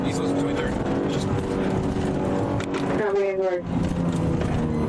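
A fleeing car skids on a highway, tires squealing under a steady engine roar, with a sharp wavering screech midway as it loses control, heard close and loud.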